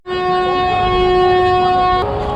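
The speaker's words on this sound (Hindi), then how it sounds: "और ट्रेन हमारी" A long, loud, steady horn blast from a Howrah-Puri Express train departing Howrah station, held for about two seconds before cutting off into faint station noise.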